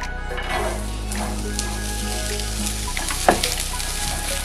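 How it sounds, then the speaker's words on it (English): Onions sautéing in hot oil in a pan, a steady close sizzle with a faint stirring scrape, under a low background hum. "So we're gonna saute our onions till they're translucent."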